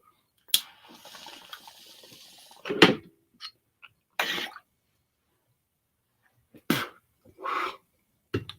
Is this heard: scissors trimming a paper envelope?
no